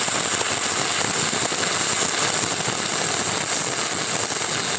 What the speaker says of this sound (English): For 60-10 in the flat position, try a circular motion and angle the rod to build up weld.